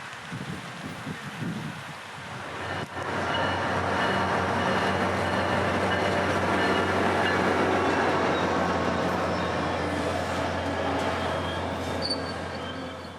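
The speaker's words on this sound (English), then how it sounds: "an approaching train, number P318, now coming north after a quick stop in Poinciana." Passenger train P318 rumbles past nearby heading north, a broad roar that builds quickly and holds steady with rattling wheel noise before easing slightly at the end.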